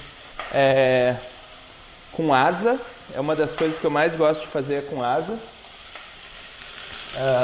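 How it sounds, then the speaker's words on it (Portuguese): Chicken pieces, including wings, fry in a smoking-hot pan with a steady sizzle running beneath a person talking, the crackle continuing between phrases. "Vou botar pedaço de frango."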